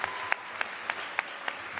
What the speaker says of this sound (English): Though they told us to wait till the end to clap, we did not wait.